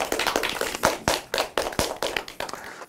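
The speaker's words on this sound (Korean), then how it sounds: "박수 한번 주세요." A small audience at a televised company event gives a brief round of clapping, sparse separate hand claps in an uneven rhythm, close and moderately loud.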